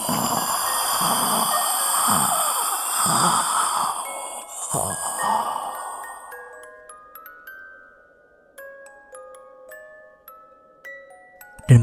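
Heavy, drawn-out ghostly breathing of a Lampor spirit, several slow deep sighing breaths with eerie chiming tones, fading into sparse tinkling bells before a sudden sharp hit at the end.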